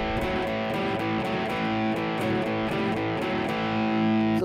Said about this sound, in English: So it's kind of like a blues riff here.